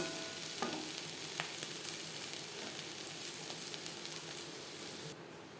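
Spiny gourd stir-fried with coconut in a pan over high-to-medium gas flame, a steady close sizzle with faint occasional scrapes of stirring, no talking.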